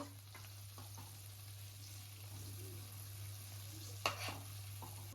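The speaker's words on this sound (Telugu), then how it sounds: "ఇప్పుడు మంచి కలర్ వచ్చినంత వరకు డీప్ ఫ్రై చేసుకోవడమే." Chicken pieces deep frying in hot oil for KFC-style fried chicken in a home kitchen, a steady low sizzle throughout with a few sharper crackles and one louder pop near the end.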